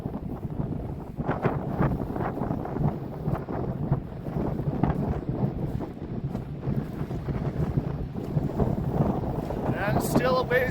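Strong wind buffeting the microphone on a beach at Malcolm Island, a continuous rough roar lasting throughout.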